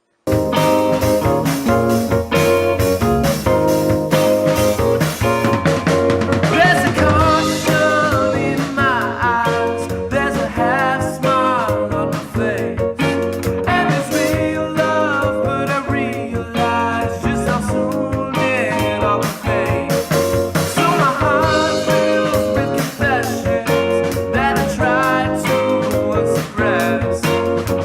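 Full band song playing loud and continuous throughout, dense and steady with no talking over it.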